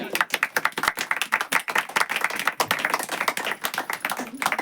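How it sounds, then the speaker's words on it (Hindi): A church congregation claps steadily and densely for nearly five seconds during a Hindi sermon about Jesus Christ. The claps are close, loud and irregular, with a voice faintly mixed in. "ताली नहीं बजती क्या?"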